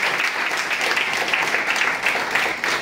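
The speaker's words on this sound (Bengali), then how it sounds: "জোরে একবার হাত তালি দাও।" An indoor audience at a marketing plan meeting breaks into loud, dense applause, a sustained wash of many hands clapping close by without pause.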